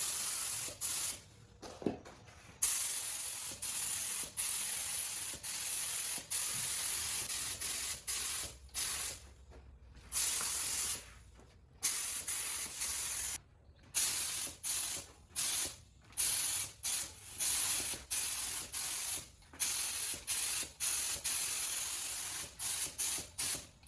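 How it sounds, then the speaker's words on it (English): Polyurethane finish sprayed straight from an aerosol can onto a router tabletop, a long series of hissing bursts of varying length separated by short silent gaps. "So I'm just going to go ahead and spray it right out of the can."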